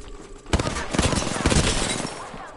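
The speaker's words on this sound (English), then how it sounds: "Getting shot at" Rapid gunfire in a shooter video game, a loud close burst of rattling shots that starts abruptly and keeps going to the end.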